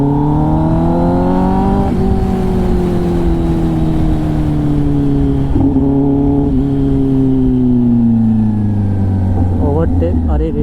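Kawasaki ZX-10R motorcycle fitted with an SC Project titanium exhaust, on an evening road ride: a loud, steady engine drone whose pitch slowly sinks as the bike cruises, with brief gear-change dips and a rising rev near the end.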